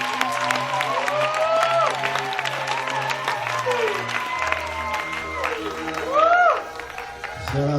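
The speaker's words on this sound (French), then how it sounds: "Acclamez trop fort." Wedding anniversary guests in a hall applaud and cheer steadily for several seconds, a dense patter of many hands with whoops and raised voices mixed in, close and loud, with people talking underneath.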